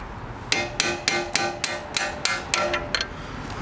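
A hammer taps a metal part through while fitting a skid plate on a Kawasaki Versys-X 300 motorcycle, about a dozen sharp ringing strikes in a steady rhythm, roughly a third of a second apart, close by.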